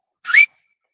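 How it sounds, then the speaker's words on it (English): A person gives a single short, rising whistle, loud and close, lasting well under a second and followed by silence. "Gotta give him a whistle."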